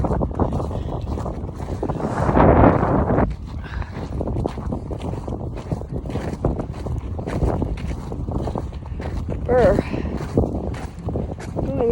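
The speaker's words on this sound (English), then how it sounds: "Feel that wind. You can hear it." Wind blowing outdoors on a walk, a steady rushing buffet against the microphone with gusty swells, heard under and between a person talking throughout.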